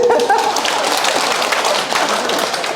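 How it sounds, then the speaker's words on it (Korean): Audience applause in a Catholic centre lecture hall during a talk on understanding patients, a steady dense wash of clapping filling the whole moment at close range. "박수 한번 쳐주세요."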